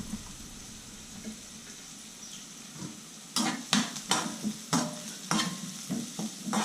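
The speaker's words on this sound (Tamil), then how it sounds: "கருவேப்பிலை, பச்சை மிளகா, வெங்காயம் மூணையும் போட்டு கலக்கி விட்டு நல்லா வரட்டும்." Curry leaves, green chilies and onion sizzle gently in a pan and are then stirred in a series of sharp scraping bursts, close and clear, with no talk.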